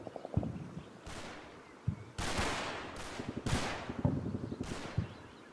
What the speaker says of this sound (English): I can hear some German mortars going off.